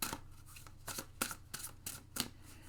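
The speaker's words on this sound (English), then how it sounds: "All right, I'm going to shuffle" Tarot cards shuffled by hand in a quiet room, a run of soft papery riffles and slaps repeating roughly every half second, close and faint with no voices.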